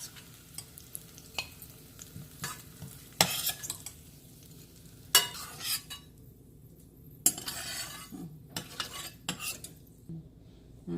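Chillies, cumin and garlic fry in a pan for yellow cucumber chutney, with a soft sizzle under repeated sharp scrapes and clinks of a spoon stirring against the metal, no talking.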